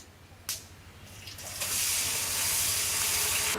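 Oil poured into a hot saucepan, starting with a brief splash and then a rising, steady close hiss that keeps sizzling to the end under a low hum.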